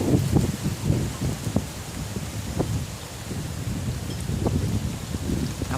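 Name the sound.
rain falling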